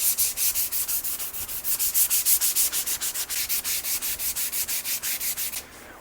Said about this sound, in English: 180 is really the perfect grit for this on wood in general